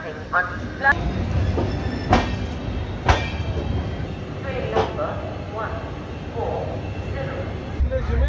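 An AC double-decker train rumbles along the tracks with occasional sharp clanks and squeals, steady rolling noise throughout, with some voices faintly underneath.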